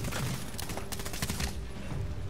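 Gunfire in the video game Medal of Honor Warfighter bursts in a rapid volley of loud, close shots amid smoky combat, then eases into rumbling background noise, with no voices.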